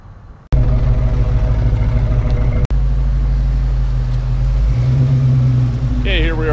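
A 1940 Mercury 8 coupe with a fuel-injected Ford 351W V8 fires up and settles into a loud, close, steady idle rumble, then blips the throttle with a quick rising rev at the end.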